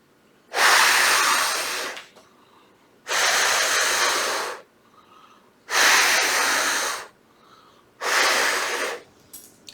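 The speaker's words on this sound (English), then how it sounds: "If I blow into it" Someone blows onto a tarot deck four times, each a long, loud, breathy gust lasting over a second with quiet pauses between them.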